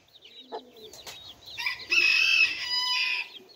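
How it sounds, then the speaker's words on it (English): A hen clucks among her young chicks, with a few soft clucks, then louder calls and high chick peeps layered close by, all at a fairly quiet level. "we've got my hen here with her young ones"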